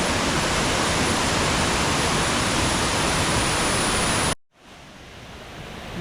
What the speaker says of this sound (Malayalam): കാടിൻ്റെ ഉള്ളിൽ കൂടെ വെള്ളം ഒഴുകി പോകുന്നതാണ് എന്നെ ഭംഗി